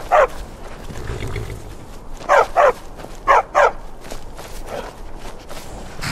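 A trained war dog in the video game Skyrim SE barks in two short double bursts, loud and close, over a low ambient game background with no speech.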